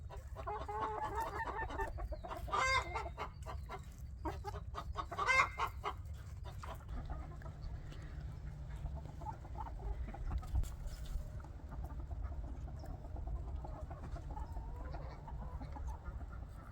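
Hens cluck inside a chicken coop, with a few louder squawking calls near the start, then softer intermittent clucking over a low rumbling background.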